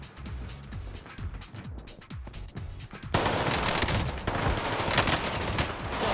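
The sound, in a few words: machine gun firing in Call of Duty Warzone video game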